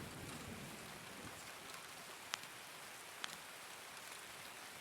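Steady rain falls in the game Escape from Tarkov, a soft continuous hiss filling the scene, broken by two faint sharp ticks.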